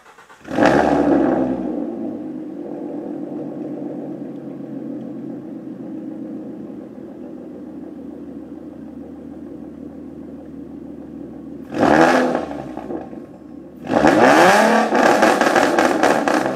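A 2013 Ford Mustang engine cranks and catches with a loud burst, settles into a steady rumbling idle, then revs sharply twice, roaring loudly up close.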